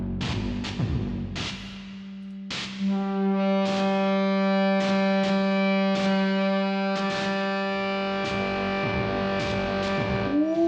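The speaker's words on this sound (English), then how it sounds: "because they're both going through the same distortion circuit." Distorted, crunchy hits from a Pulsar-23 drum machine pound in a steady pattern over a buzzing, sustained bass tone, both running through the same distortion circuit and heavily saturated.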